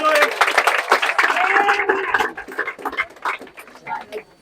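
Applause from an audience of schoolchildren at an anti-drug abuse campaign event in Bomadi, Delta, a busy mix of clapping with voices and chatter, loud at first and thinning out toward the end.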